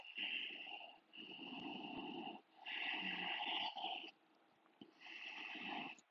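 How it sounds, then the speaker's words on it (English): Ujjayi breathing during a calm yoga flow, slow audible breaths through a constricted throat, each long hissing inhale or exhale followed by a brief pause, close and steady. "Staying with the Ujjayi breath."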